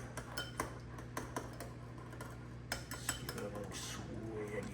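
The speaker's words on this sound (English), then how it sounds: "Let's just whisk it up and see." Meatball mixture with jalapenos whisked in a bowl, giving quiet irregular clinks and ticks of metal against the dish over a steady low background hum, with no talking.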